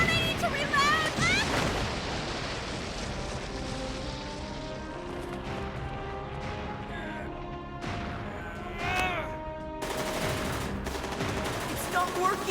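Rapid gunfire crackles in an anime battle scene, with bursts of shots and crashing impacts overlapping shouted dialogue, dense and loud throughout.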